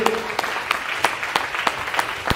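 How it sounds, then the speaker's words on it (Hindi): Audience applause at a network marketing seminar: a steady wash of clapping with sharp, evenly spaced louder claps cutting through about three times a second, moderately close and continuous throughout. "एक बार शानदार ताली हो जाएंगे"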